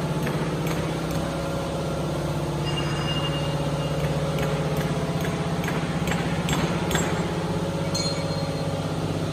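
Custom roll forming machine running in a fabrication line, a steady mechanical hum with faint rhythmic ticking and occasional clinks, continuous and unvarying at moderate level.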